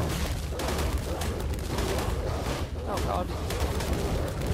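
Dense, continuous bursts of gunfire from a video game fight against creatures crackle loudly throughout, with a player briefly exclaiming over the shooting.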